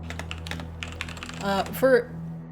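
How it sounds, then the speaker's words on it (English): Fast typing on a computer keyboard rattles in quick, uneven bursts of key clicks at moderate distance, with brief voice sounds rising over the clatter near the end. "I just hear like feverish typing."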